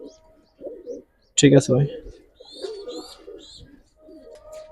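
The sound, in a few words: Budapest highflyer pigeons cooing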